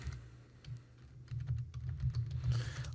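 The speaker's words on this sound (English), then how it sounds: "Well, I can go ahead and type in now." Typing on a computer keyboard, a quick patter of soft, close key clicks over a low hum, picking up toward the end.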